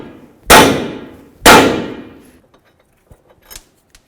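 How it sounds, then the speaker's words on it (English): A hammer bangs twice on an 18mm nut on the front suspension of a 2006–2010 Dodge Charger, two loud ringing metallic clangs about a second apart, followed by a few faint small taps and knocks. "That nut on there, give it a bonk."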